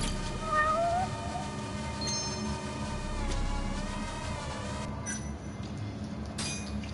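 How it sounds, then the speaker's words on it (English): A cat meows in the video game Judgment, several short mewing calls near the start over a steady game backdrop with faint chimes, with no talk. "there's the cat"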